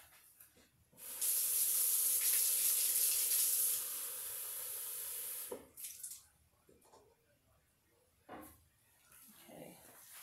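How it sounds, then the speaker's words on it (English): Water runs from a kitchen tap into a cup for a cake recipe, a steady loud hissing stream lasting a few seconds before being shut off, followed by faint handling clatter. "Get it from the tap."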